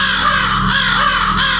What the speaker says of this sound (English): dozens of crows erupted from the branches. Their cries echoed through the forest.